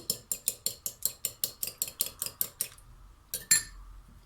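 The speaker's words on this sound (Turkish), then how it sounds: "3 yumurtamı önce şöyle çırpıyorum." Three eggs are whisked in a bowl for a broccoli omelette. A fork beats in a quick run of about fifteen bright clinks, then pauses, followed by a couple of final taps against the bowl.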